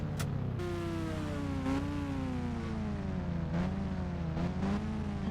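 A Benz sports car in a video game revs its engine loudly and steadily, the pitch climbing and dipping through several gear-like sweeps with no talk over it.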